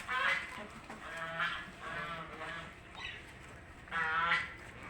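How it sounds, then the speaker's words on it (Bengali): Chinese geese on a farm give a few faint, brief honking calls at a distance, in short bursts separated by quiet gaps. "এই যে চীনা হাঁসগুলো আমাকে দেখার পরে থেমে গেছে।"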